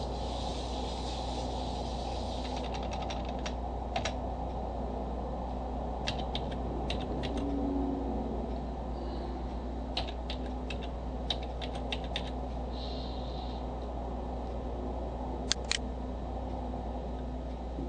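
Keys on a computer keyboard are tapped in scattered bursts of quiet, close clicks over a low steady hum, with short pauses between runs of typing.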